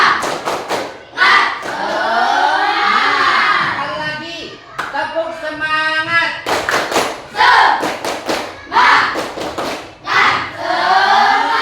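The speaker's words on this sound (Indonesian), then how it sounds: "Sekali lagi, tepuk semangat." A group, likely a classroom of children, does the Indonesian tepuk semangat spirit clap, loud rhythmic bursts of hand claps alternating with a voice chanting and talking.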